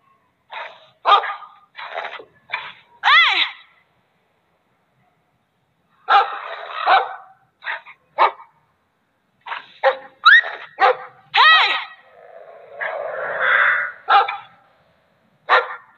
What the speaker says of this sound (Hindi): ओ भाई जंगली कुत्ता भागो